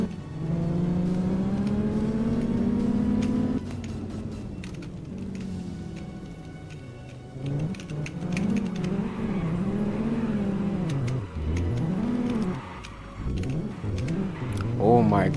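A Dodge Viper engine revs and drones during a handling test on a track, climbing then easing off, with the pitch rising and falling through repeated throttle changes, loud and close.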